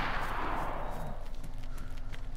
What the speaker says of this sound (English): I'm letting out a gunfire to see if Myers is nearby.